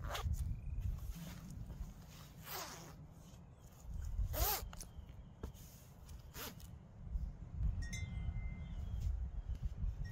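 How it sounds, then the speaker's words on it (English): YKK zippers on a USMC windproof fleece jacket from the lightweight exposure system being worked: several sharp, close zipping strokes over steady fabric rustle and handling, with faint metallic clinks near the end. "YKK zippers featured on this as well,"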